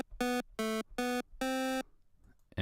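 A 25% pulse wave tone from the Magical8bitPlug2 chiptune synth plugin, in the style of NES and Game Boy consoles: four bright, buzzy sustained notes, the last held longer, then silence and the start of another tone.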